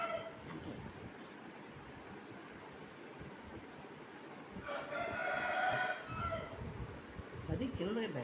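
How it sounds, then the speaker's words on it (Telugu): A rooster crows in the middle distance from a neighbour's yard, one drawn-out call rising over a steady background hum, with people talking faintly around it. "పక్కన వాళ్ళు కోడి పుంజు వదిలేస్తుంది అనమాట."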